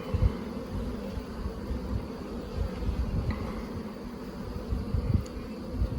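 Honeybees crowding around the queen in a nuc hive, giving a close, continuous buzzing hum that swells and wavers throughout, alone without talk.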